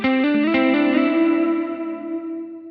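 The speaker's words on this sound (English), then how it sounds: "Let's bring in some of this new Heliosphere delay." An electric guitar run through a Line 6 Helix with Heliosphere delay plays a few quick plucked notes that ring into one long sustained tone, with the repeats smearing and slowly fading over a few seconds.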